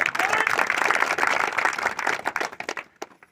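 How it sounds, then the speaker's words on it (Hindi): Loud, dense applause from a crowd at an outdoor election rally, sustained for about two and a half seconds before thinning into scattered claps and fading out. "एक बार इनके लिए जोरदार तालियां बजाइए।"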